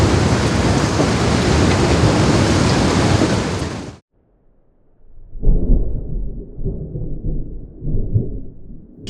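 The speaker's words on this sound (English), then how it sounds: "I've never experienced winds like this in a van before" Strong storm winds from Storm Amy buffet a van in Norway: a loud, roaring gust fills the first four seconds, then cuts off, followed by lower rumbling gusts and thumps that rise and fall.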